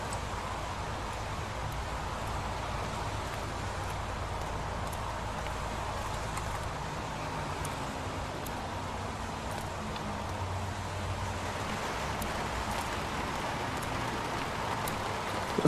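Steady, dense rain with a constant hiss of highway traffic fills a muddy outdoor scene in the video game Heavy Rain, an even wash of noise that continues throughout.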